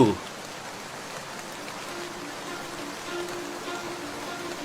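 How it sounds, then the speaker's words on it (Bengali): Steady rain hisses evenly in an animated folk story about a flood, with a brief knock at the start. The rain is not very loud, and there is no clear talking. "বুঝলে সেমন্ত, যে বৃষ্টি আর বন্যা হচ্ছে না, তাতে মনে হয় দুঃখীর ঘর একেবারে ভেসে গিয়েছে।"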